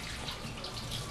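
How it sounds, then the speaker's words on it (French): A kitchen tap runs in a steady, even stream as hands are washed under it, the water noise filling the whole moment at close range with no talk. "elle se lave les mains à chaque fois avec mon eau du robinet dégueulasse"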